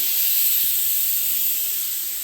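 A pressure cooker hisses steam in a loud, continuous, sharp jet, steady and close throughout with no talking.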